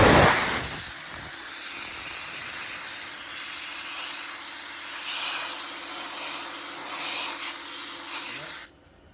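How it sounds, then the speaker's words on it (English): Compressed air blasting from an air hose into the engine of a 1970 VW Beetle, a loud, steady hiss that runs without a break for about eight seconds before cutting off abruptly. "Can I use your air hose real fast?"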